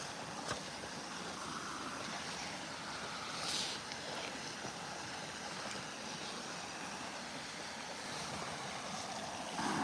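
Rising water rushes through rapids below tile-drain outlets as a steady, fairly faint broadband roar with no voices.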